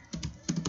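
Short burst of typing on a computer keyboard, a handful of quick, close key clicks in an uneven rhythm, entering a command on a server, with no talking.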